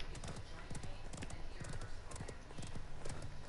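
Horse hooves in the video game Realm Royal, a steady rapid clip-clop of galloping beats, fairly faint and close, with light speech in the background.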